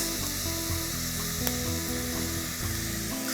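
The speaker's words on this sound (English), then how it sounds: "Constantly mix the meat so it doesn't stick to the bottom of the pan." Minced meat browns in olive oil and is stirred in a pan, with eggplants also cooking, making a dense, steady close-up sizzle with faint stirring movements and no voices.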